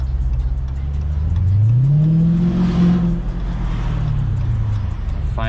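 A 2022 Dodge Challenger Scat Pack Widebody accelerates hard, its engine note climbing in a loud, rising roar before easing off, heard from inside the car.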